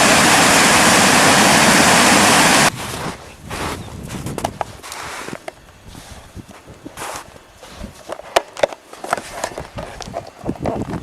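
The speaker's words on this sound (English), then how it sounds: "There's the creek where we got water from earlier." Rushing water from a mountain creek roars loud and steady for nearly three seconds, then cuts abruptly to a much quieter scene of scattered rustles, taps and thumps nearby.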